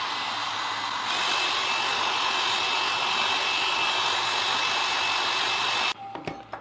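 Repaired ceiling fan motor running with oiled bearings: a steady, smooth whirring hum with a faint high whine, holding constant for several seconds before switching off, followed by a few light clicks.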